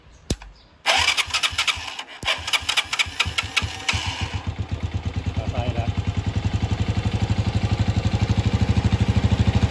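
A faulty motorcycle starter motor cranks with a rapid, steady whirring chug that grows louder and more regular, following a few sharp clicks and clunks at the start.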